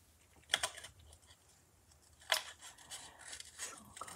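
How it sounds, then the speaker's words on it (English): Scissors snip paper while fussy cutting around stamped leaves for a paper-craft card project, with two distinct sharp cuts and softer scattered trims between them in a quiet room. "I'm gonna go around the leaves, not detailed wise. I'm just gonna kinda give them some space. But we'll go ahead and get this fussy cut."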